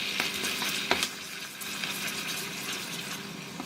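Thai laksa curry with coconut milk, kaffir lime leaves and lemongrass bubbling in a pot, a continuous close hiss and sizzle with a few soft knocks of a utensil, no voices.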